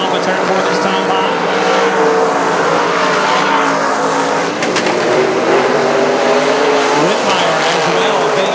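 Race cars roaring through turns 3 and 4 at South Texas Speedway, a continuous loud engine drone with tire squeal and passing cars, with an announcer's voice faintly under the noise.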